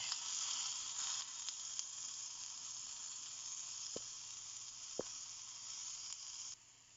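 Tomato sizzles in a hot pan for coriander tomato pachadi, a steady bright frying hiss with a couple of sharp clicks, easing slightly toward the end, with no voices.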